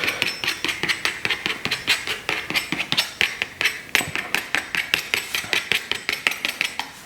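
Small palette knife working watercolour paint on a palette, giving a fast, even run of crisp tapping clicks, about four a second, close and fairly loud, without any talk.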